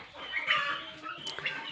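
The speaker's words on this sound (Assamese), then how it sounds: "ইয়াতে আছে আপোনাৰ চিল্কি পোৱালি কেইপিচমান" Silkie chicken chicks cheep in a group with high, overlapping chirps that stay close and continuous.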